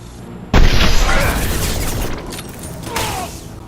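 Weapon fire and explosions in Mass Effect 2 Legendary Edition: a sudden loud boom breaks in, then a dense roaring wash of blasts and bursts that swells again near the end.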